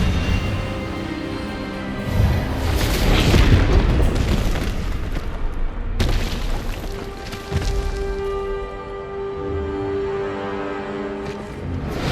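A spell cast in the Hogwarts Legacy video game lands as a loud booming burst, a swelling magical blast that rolls on with rumbling low tones and lingering sustained effects, with no talk over it.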